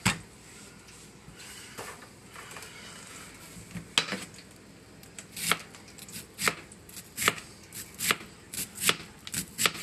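A knife chops red onion on a cutting board, starting with scattered cuts and building into a brisk run of sharp, close knocks in the second half.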